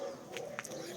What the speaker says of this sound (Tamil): இவைதான் எங்கட செல்ல கோழிக்குட்டிகள்.